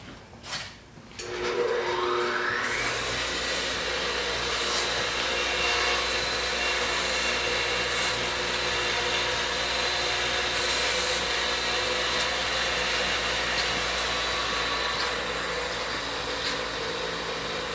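A grinder shaping the flared end of a part from a 1953 reel mower, a loud, steady whining grind that starts after a brief spin-up and runs on continuously up close, with no talking.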